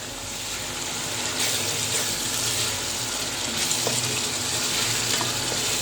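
Masala paste with green chilli paste and golden-browned onions fries in a pan for a potato and meat curry, giving a dense, steady, loud sizzle with slight swells and no talking.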